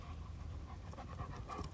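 A dog pants steadily and rhythmically close by in a yard during spring, with quick breaths throughout.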